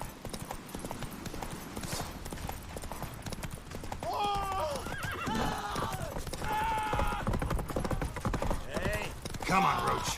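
A horse gallops in quick, rhythmic hoofbeats in The Witcher 3 and lets out several whinnies over them, close and steady, with game ambience and faint voices beneath.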